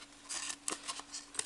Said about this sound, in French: vous enlevez juste la bordure blanche avec les ciseaux